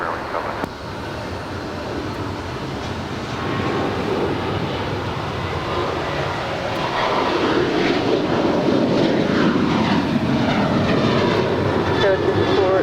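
Spirit airliner taking off from runway 25 right at Los Angeles International Airport, a steady broadband jet roar building louder over several seconds, heard at a distance with faint radio chatter in the background.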